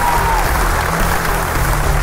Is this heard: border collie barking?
no